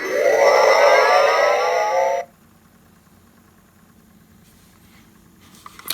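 Electronic shields-up effect from a 1998 Playmates Star Trek Insurrection U.S.S. Enterprise NCC-1701-E toy, a loud rising warbling tone lasting about two seconds that cuts off abruptly into near silence.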